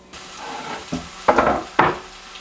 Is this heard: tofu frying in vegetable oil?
yes